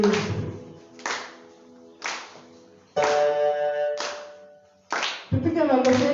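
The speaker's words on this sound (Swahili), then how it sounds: "Tupige makofi yetu tukingojea keyboard" A church congregation claps hands at a live Sunday gospel service, loud rhythmic bursts of clapping with tonal singing or music joining in during the later part of the clip.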